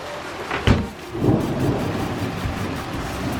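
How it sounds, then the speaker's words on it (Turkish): Heavy rain pours steadily while a sharp crack of thunder breaks early on, followed by a low rumble under the downpour. "felaket yağmur yağıyor"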